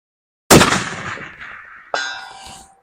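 A Bergara B-14 rifle fires once, a sharp loud crack with a rolling decaying echo, followed about a second and a half later by a distant metallic ring of the bullet striking a steel target at 400 yards.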